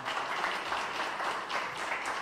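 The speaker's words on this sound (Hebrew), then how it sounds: "מגיע לו הרבה מחיאות כפיים" Applause from a crowd at a birthday celebration for a Spanish tenor, a dense, steady wash of many hands clapping together, continuous and fairly loud.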